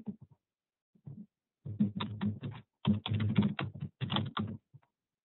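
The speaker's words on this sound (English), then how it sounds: "I'm going to type in the Africa connection." Rapid bursts of keystrokes on a computer keyboard, close and fairly quiet, coming in short irregular runs separated by brief pauses, with no talking.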